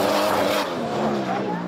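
Drifting cars at a seaside drift challenge event, a steady loud roar of engines and squealing tires continuing throughout, with a crowd murmur beneath.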